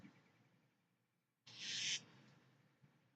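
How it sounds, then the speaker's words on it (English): A bird hisses from overhead, one loud breathy burst lasting about half a second that stands out against a quiet background with faint rustling. "I just heard something like kind of hiss above me."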